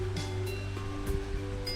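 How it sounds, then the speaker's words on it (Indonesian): A wide, fast-flowing river in a village in Aceh rushes with a steady, loud broadband roar of water, continuous and close, with no talking. "sungai di sini lumayan besar ya, dan airnya juga lumayan deras."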